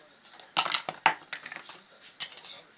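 A frying pan and other cookware handled in a home kitchen: a string of close metallic clanks, knocks and scrapes at an irregular pace, fairly quiet overall.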